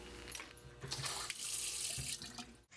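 Water runs steadily from a sink tap, loud and continuous with a broad hiss that swells and eases before stopping abruptly at the end, no voices.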